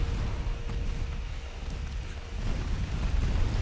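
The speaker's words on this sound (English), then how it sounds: "Blew up your torpedoes." Torpedoes detonating in the naval combat game Ultimate Admiral Dreadnoughts, heard as a dense, rumbling explosion roar that stays loud and continuous through the whole stretch.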